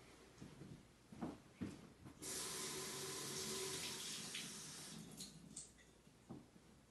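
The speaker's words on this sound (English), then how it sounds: "start my experiment by pouring 1/2 cup of water into my container" Half a cup of water poured into a container, a few faint handling knocks first, then a continuous splashing pour lasting about three seconds that tapers off, followed by light clinks.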